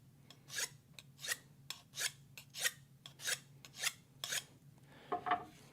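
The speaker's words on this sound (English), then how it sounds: "you can't sharpen a ceramic with a diamond sharpening steel" A ceramic knife is drawn along a diamond sharpening steel in about nine rhythmic, rasping strokes, each a short bright scrape, close and fairly quiet with a faint hum beneath and no voices.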